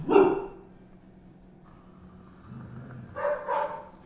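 A dog gives a sharp bark up close, then after a quieter stretch lets out a couple more barks and yips toward the end.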